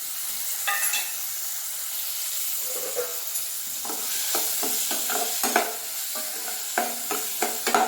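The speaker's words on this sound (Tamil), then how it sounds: "சோம்பு நல்லா பொரிஞ்ச உடனே வெங்காயத்தையும் போட்டணும்" Fennel seeds and onions frying in hot oil for paneer matar masala, a continuous sizzle with a run of quick scraping stirs and utensil clicks building in the second half, close up with no talking.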